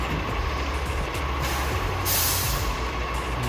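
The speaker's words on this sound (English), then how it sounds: "we'll do park brake on the back as well" A DAF CF85 Euro 6 truck's park brake releases air: a low, steady background hum, then one sharp burst of hissing air near the middle that fades out, nearby with no voices.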